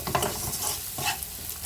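Katla fish pieces with eggplant and potato frying together in a pan, a close brief sizzle with stirring scrapes in short bursts.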